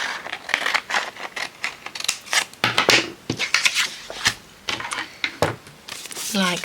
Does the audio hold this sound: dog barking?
no